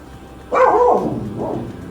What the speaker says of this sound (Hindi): तुझे पता है कौन कहाँ कैसे भौंक रहा है?